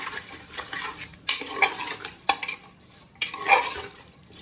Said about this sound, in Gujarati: હલાવી દેવાનું મિશ્રણ બધું.